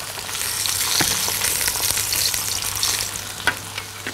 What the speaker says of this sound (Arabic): الموزة والرقبة اتحمروا.